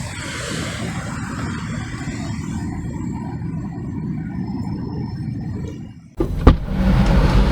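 Steady rumbling traffic noise from passing vehicles on EDSA, a busy road, fills the background, then cuts abruptly to a different, louder ambient wash near the end.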